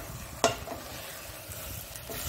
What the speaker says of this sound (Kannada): ಈಗ ಈ ನೆನೆಸಿಟ್ಟಂತ ಅದನ್ನು ನೀರನ್ನು ತೆಗೆದಂತ ಅದನ್ನು ಇದರಲ್ಲಿ ಹಾಕೊಳ್ಳೋಣ. ನಿಧಾನಕ್ಕೆ ಈಗ ತಿರುಗಿಸ್ಕೊಳ್ಬೇಕು